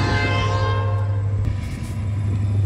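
A Wheeling & Lake Erie freight train passes close by at a road crossing, its horn blaring in a long sustained blast over the rumble of the locomotive and rolling cars.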